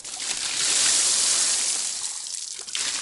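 Water rushes through the line of an off-grid water system, a close, steady hissing flow that swells and then eases slightly toward the end.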